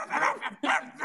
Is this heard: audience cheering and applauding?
no